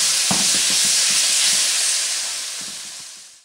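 Beef strips stir-fry at high heat in a hot pan, giving a loud steady sizzling hiss with a few faint clatters of stirring, fading out at the end.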